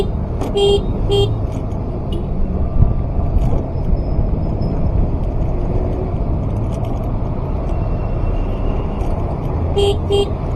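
Short horn toots sound in busy road traffic beneath a flyover on Daang Hari in Cavite: a couple of quick blasts early on and another near the end, over a steady, loud wash of passing engines.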